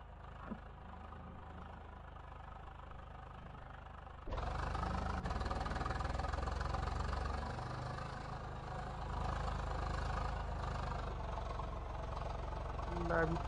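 Swaraj 855 tractor engine in Farming Simulator 22, hauling a trolley out of pits in medium third gear: a steady low drone that jumps louder after a few seconds and holds, with a voice talking over it.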